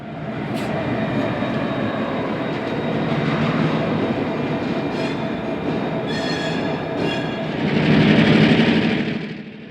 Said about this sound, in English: a loaded CSX coal train being led by GP15-1 number 418 and SW1500 301